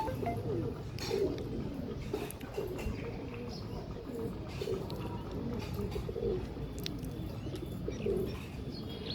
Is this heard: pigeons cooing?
yes